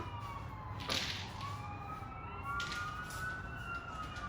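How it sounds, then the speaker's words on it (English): Wailing sirens rise and fall in the distance, steady and moderately loud throughout, with a brief sharp crack near the start. "There's some sirens going off, so don't be alarmed."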